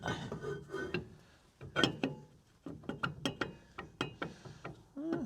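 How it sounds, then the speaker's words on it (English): A brake rotor disc is being fitted back onto the rear hub of a Ford F150, making a series of sharp metallic clicks, clunks and scrapes in irregular bursts, close and fairly quiet, with no talking. "So let's just pop our disc on again."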